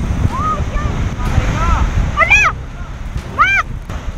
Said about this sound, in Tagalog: Sobrang laki po kasi ng alon.